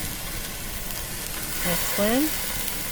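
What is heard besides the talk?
turkey rolls sizzling on a hot grill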